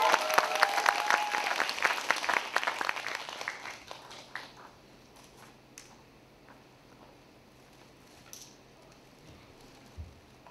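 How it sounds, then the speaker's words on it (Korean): Audience applause at a live concert-style event stage show, a dense burst of clapping that fades after about four seconds into a quiet room with scattered faint ticks. "박수."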